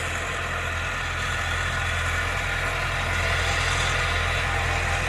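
A T-40 tractor engine idles nearby in a field with a steady low chugging rumble and constant mechanical drone, no voices.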